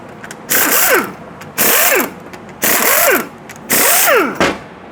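Four loud, close bursts of a ratcheting tool working transmission bolts loose on a 2001 Firebird's 4L60E transmission, each lasting under a second with a whirring, mechanical pitch sweep, separated by brief pauses.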